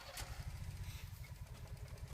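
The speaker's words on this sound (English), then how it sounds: "Motorcycle." A motorcycle engine idles and revs with a steady low throb, its rough pulsing running throughout at moderate level.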